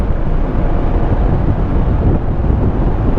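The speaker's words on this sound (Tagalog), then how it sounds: "Ang lakas ng hangin mga koys." Strong wind buffets the microphone during a ride on a Honda ADV 160 scooter, a loud, steady roar of rushing air filling the whole stretch with no talk.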